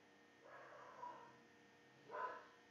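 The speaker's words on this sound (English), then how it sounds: "I do apologise if you hear my dog barking in the background." A dog barks twice in the background, a longer muffled burst followed by a second short bark a moment later, faint and distant in an otherwise quiet indoor room.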